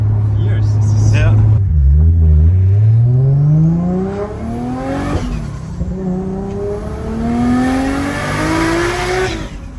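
A Nissan R34 GTR V-Spec II is driven with its engine revving up through the gears in rising sweeps, shifting and pulling again, loud and close from inside the car.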